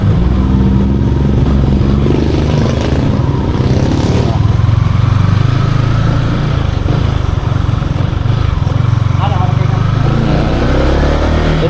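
Motorcycle riding through a safety checkpoint at the Misamis Occidental boundary in Mindanao, a steady close engine drone throughout with rattling, and voices talking underneath.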